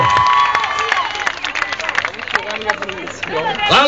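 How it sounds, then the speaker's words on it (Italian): An audience at Yamaha Fest 2008 claps and cheers in a lively outdoor crowd, while a host's voice and chatter run over the noise throughout the few seconds. "un applauso a Paolo Beltramo."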